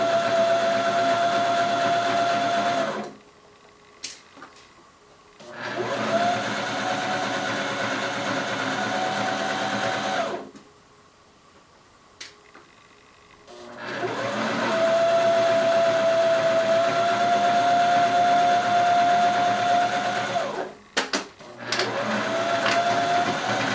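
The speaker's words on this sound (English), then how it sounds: "now that we have finished sewing" A sewing machine runs a 1/4 inch seam along the curved side of a shirt in several long, steady bursts of motor whir, separated by pauses of near silence, loud and close.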